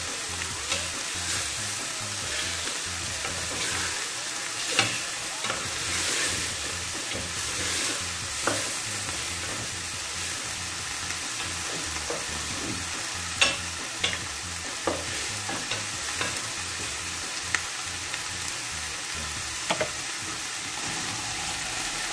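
Food for an Arabic home-cooked meal sizzles steadily in a hot pan while a utensil stirs it, with occasional scraping clinks against the metal throughout.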